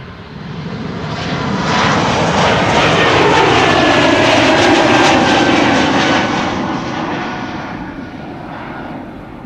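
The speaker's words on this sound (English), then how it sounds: "Here we have one of those modern, fuel-efficient, quiet A220s. Croatia Airlines on its way to Zagreb." A Croatia Airlines Airbus A220 departing Amsterdam Schiphol for Zagreb: a loud, steady jet roar that swells over a few seconds, holds at its peak, then slowly fades as the aircraft passes. No voices.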